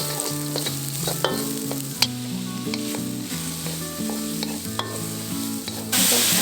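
Carrots stirred in a hot frying pan for stir-fried vegetables, a steady close sizzle with repeated scraping and clacking strokes of the utensil against the pan, growing louder near the end.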